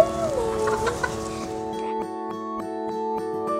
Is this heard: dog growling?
no